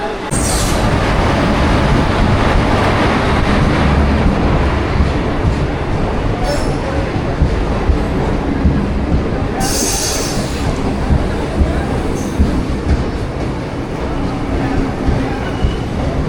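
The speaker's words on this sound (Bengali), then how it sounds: "আর নিউ জলপাইগুড়িতে এসে পৌঁছালো কিন্তু আমাদের ট্রেন" The 13142 Teesta Torsa Express rolls into New Jalpaiguri station, a loud steady rumble of wheels and carriages with occasional high squeals, heard close from an overbridge.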